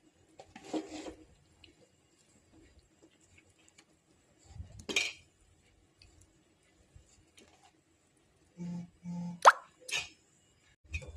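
Fish pieces dropped one after another into a pot of boiling fish curry, giving soft wet plops and a few clinks of utensils against the pot, separated by quiet pauses, with no talking.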